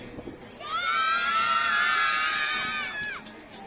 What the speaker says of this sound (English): Why are you shouting at me?